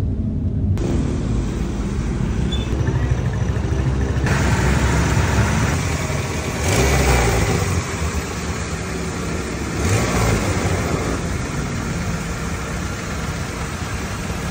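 A racing car engine drones loudly and steadily during a test drive on the road, with a few surges as it revs and pulls, heard from inside the car throughout without talk.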